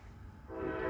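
A train rumbling past with its horn sounding, a low steady roar swelling as a sustained tonal blast rises and grows louder toward the end.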